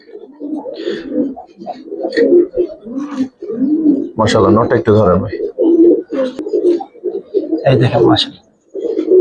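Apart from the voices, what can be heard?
Giribaz pigeons cooing in a loft cage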